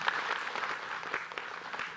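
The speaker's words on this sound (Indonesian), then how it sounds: "Tepuk tangan dong." Applause from a studio audience at an Islamic religious talk show, a steady patter of many hands clapping for about two seconds with no talk over it.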